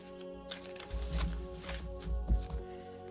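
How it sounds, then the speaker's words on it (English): Tarot and oracle cards are shuffled close up, giving soft, irregular riffling and thumping rustles against a faint background hum. "Perfectly shuffled, of course."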